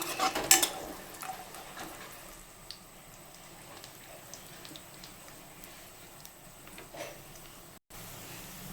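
Nuts and raisins frying in ghee for bottle gourd halwa, a faint low sizzle with a spoon clinking and scraping the pan, the clearest clatter near the start and a brief dropout near the end.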